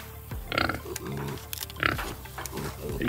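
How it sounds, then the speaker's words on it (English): Baby pigs nursing on a sow on a farm, giving a close chorus of repeated grunts and soft squeals in quick irregular bursts. "our baby pigs. They're nursing right now."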